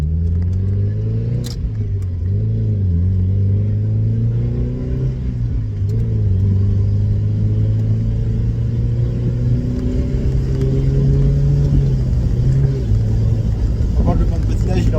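Mazda Miata engine rising and falling through the revs as the car drives, a steady close rumble with climbing harmonic sweeps, while people talk over it throughout.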